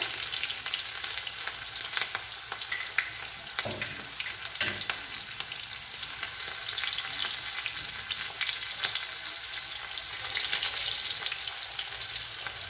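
Cumin and onion fry in hot oil with a steady, dense crackling sizzle that swells slightly near the end, broken by a couple of brief stirring knocks, close and even.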